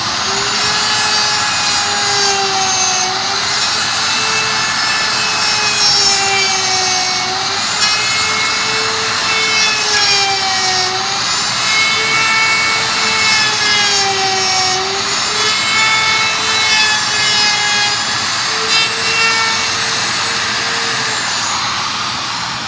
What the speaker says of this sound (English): we're going to pull the trigger, wait for it to reach maximum speed, and then basically follow these finger joints in the jig to create the dovetail